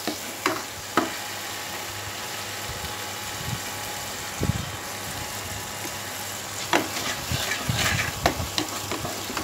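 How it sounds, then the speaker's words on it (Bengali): Spice paste with turmeric and salt frying in a pan for an aubergine bharta, stirred with scattered scrapes and soft knocks over a steady low sizzle; no voices. "এটা আমি আবার দু মিনিটের মতো ফ্রাই করে নেব মশলাটা আমার রেডি হয়ে গেছে"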